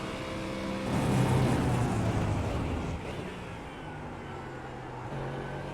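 Ford Mustang GT3 at The Bend in the iRacing video game: a loud engine roar building early, then dropping in pitch and volume as the car slows for a corner, running steadily to the end.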